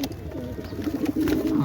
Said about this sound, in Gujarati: આજે આપણે થોડાક પાછા કબૂતર ઉડાડશે